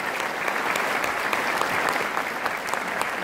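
An audience at a parents' meeting for education workers applauds together, dense steady clapping filling the room throughout without a break.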